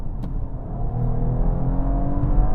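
A V6 car engine revs up steadily after a kickdown to third gear, a continuous mid-pitched rumble and whir building in intensity as the vehicle accelerates.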